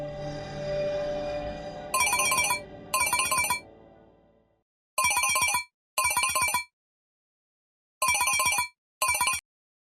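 Mobile phone ringing with an incoming call: a fading tone trails off, then loud electronic ringtone bursts come in pairs, separated by silent gaps.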